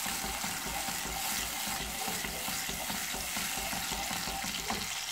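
Tomatoes and chicken masala fry steadily in hot oil for a Chicken Bhuna Masala, a dense continuous sizzle with low scraping and stirring throughout, close and fairly loud, with no voices.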